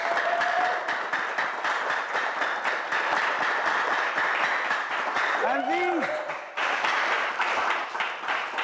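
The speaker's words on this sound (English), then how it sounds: "A round of applause, ladies and gentlemen" Audience applause after hampers are handed out at a Ghanaian comedy show, a dense steady wash of clapping and crowd noise lasting throughout, with voices and a brief shout rising over it near the middle.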